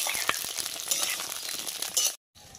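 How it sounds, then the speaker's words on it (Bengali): Pieces of pointed gourd (potol) frying slowly in oil over a low flame, a close crackling sizzle with light clinks of a utensil against the pan, cut off abruptly near the end. "আমার পটলটা ভাজা হয়ে এসছে, এবার আমি পটলটা তুলে নেব"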